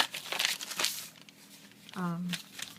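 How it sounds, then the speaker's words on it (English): A scrap piece of paper is handled and crinkled during a beeswax collage postcard craft, giving short dry rustling bursts close by, with a voice talking over and between them. "Let me get a scrap piece of paper over here."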